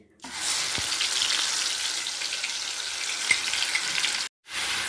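Ground onion paste sizzles steadily in hot oil in the same oil used for capsicum, a continuous bright frying hiss with a few soft clicks, then a brief dropout near the end.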